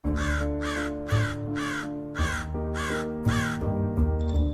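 A toy crow caws in a quick, steady series of about seven harsh calls, close and fairly loud, over a sustained electronic hum.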